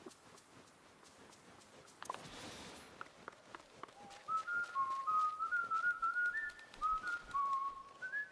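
Mickey Mouse whistles a wandering melody in Disney Dreamlight Valley, a clear, fairly loud tune entering midway after soft background game ambience and footsteps, running steadily to the end.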